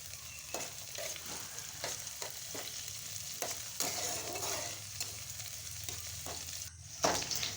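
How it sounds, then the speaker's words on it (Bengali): Chopped garlic and chillies fry in hot oil for red amaranth, a soft steady sizzle broken by repeated scraping stirs of a spatula in the pan, close but quiet, with no talk. "এবার এগুলো সবগুলোই আমি লাল লাল করে ভেজে নেব।"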